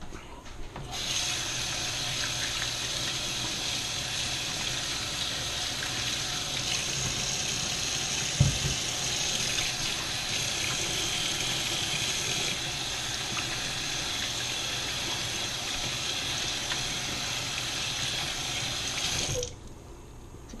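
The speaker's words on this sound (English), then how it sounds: "Third time I've washed my hands on video." Kitchen tap running steadily while hands are washed under it, a constant close splashing hiss with brief rubbing and a small knock midway, stopping near the end.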